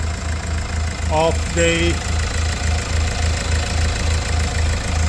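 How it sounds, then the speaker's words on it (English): A 2016 Hyundai Tucson 1.7 CRDI diesel idles steadily up close, its even, pulsing clatter running throughout while a voice briefly speaks over it. "the engine is running smooth, no leakage whatsoever"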